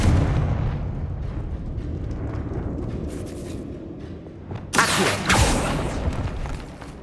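Confringo fire spell explosion in the video game Hogwarts Legacy: a sharp, loud blast with a quick second burst over steady rumbling game ambience.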